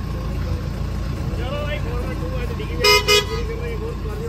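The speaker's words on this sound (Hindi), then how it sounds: "दो बार हॉर्न मार ली," Two short car horn honks sound close together during 4x4 off-roading on a rough track, over a steady idling engine while people talk.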